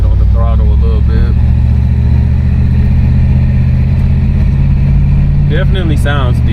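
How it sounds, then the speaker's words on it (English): A 1979 Cadillac Deville Phaeton engine revs under throttle, a loud close steady rumble that rises in pitch, with someone talking over it at the start and end. "Get on the throttle a little bit."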